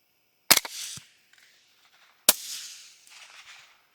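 Two sharp rifle shots during a hunt, fired with cheap Russian ammunition, crack out about two seconds apart, each followed by a brief echoing tail, with faint rustling between them and no voices.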